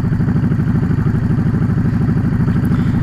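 Yamaha R1 crossplane motorcycle engine idling close by, a steady, deep lumpy rumble with an even throbbing pulse and no voices.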